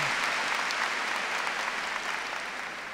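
A congregation at a church sermon breaks into sustained applause, a dense even rush of clapping that holds steady and then eases slightly toward the end.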